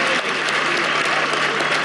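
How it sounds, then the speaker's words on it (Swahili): Dense, steady applause from a large crowd at Madaraka Day national celebrations at Uhuru Gardens, clapping for the children, loud and sustained throughout without a break. "Makofi kwa watoto wetu"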